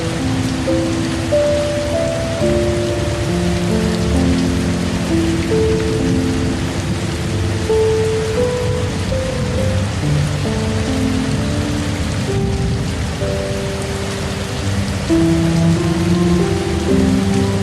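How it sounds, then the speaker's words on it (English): Soft, steady rain falls in a Costa Rican cloud forest at night, a continuous hiss of drops with low rumbling beneath and gentle tonal notes drifting over it, no voices. "The rain continues to fall, softly now, so softly."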